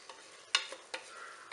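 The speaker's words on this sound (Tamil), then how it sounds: "அரிசி எல்லாம் காய்கறியோடு எல்லாம் நல்லா சேர்ந்து வர்ற மாதிரி கிளறி கொடுத்துக்காங்க." A spoon stirring rice and vegetables for veg biryani in a pan, with a few short scraping strokes and faint sizzling, fairly quiet and close, with no talking.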